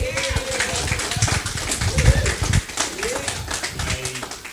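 A live studio audience claps continuously at moderate volume, with voices and a few calls mixed into the applause.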